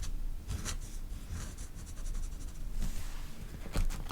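A fountain pen scratches across paper in quiet, close strokes, drawing thick sketchy lines with soft rhythmic rubbing and brief louder scrapes.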